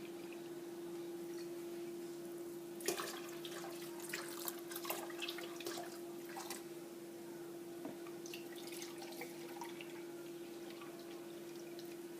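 Apple juice is poured into a pot of turkey brine, a faint trickle with light drips and splashes over a steady low hum.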